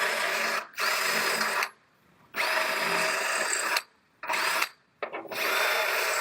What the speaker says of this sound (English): So as I'm drilling these out